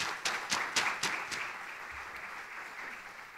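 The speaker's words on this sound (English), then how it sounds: "let's give them all a round of applause for the support." An audience applauds at an evening film event, a burst of crisp claps at first that settles into a steady, moderately distant wash of clapping, with no voices over it.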